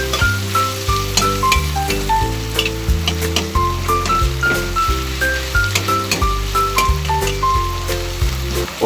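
Sisig sizzles steadily in a pan while being stirred and mixed, a constant crackling hiss that runs throughout, with rhythmic music playing underneath.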